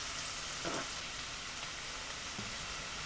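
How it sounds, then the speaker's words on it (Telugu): Onions and curry leaves fry in oil in a pan, giving a steady, close hiss of sizzling with a few faint stirring scrapes and no talk. "కరివేపాకు ఉల్లిపాయలు వేసుకోవాలి అవి వే అవి వేగే వరకు ఎర్రగా వేపాలి చక్కగా ఎర్రగా వేపాలి"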